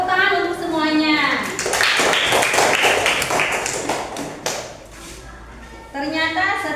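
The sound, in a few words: classroom applause, children clapping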